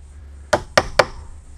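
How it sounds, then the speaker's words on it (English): A chisel taps three times into a hollow wooden door: three sharp, close knocks at an even, quick rhythm over quiet background. "we'll just double mark it with the chisel"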